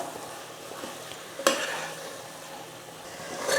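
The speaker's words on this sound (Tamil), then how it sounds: "இப்போ மசாலாலாம் சேர்த்து நல்லா வதங்கட்டும்" Masala spices sautéing in a pan for an ivy gourd (kovakkai) gravy: a steady low sizzle with light stirring, one sharp utensil scrape or clatter partway through and another near the end, no talking.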